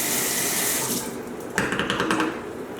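Kitchen sink tap runs a steady stream of rinse water, shifting midway into a choppier splashing as something is rinsed under the flow; close, loud and continuous with no voices.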